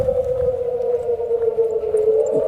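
An air raid siren wails steadily in Kharkiv's North Saltivka district in June 2025, one loud sustained tone holding nearly level with a slight droop, heard outdoors with faint street noise beneath.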